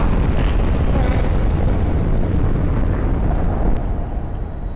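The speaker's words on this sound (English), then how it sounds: "Did it just explode?" A dense, roaring in-game explosion fills the whole stretch with a loud, continuous rumble that trails off slightly near the end.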